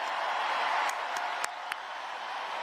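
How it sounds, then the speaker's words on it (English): A large rally crowd cheers and applauds in a packed hall, a steady roar of claps and voices sustained at a moderate distance, with a few sharper shouts standing out. "Crowd explodes again."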